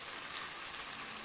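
Spicy corned beef sizzles in a hot pan with a soft, steady frying hiss, then a sudden louder crackle right at the end, with no voices.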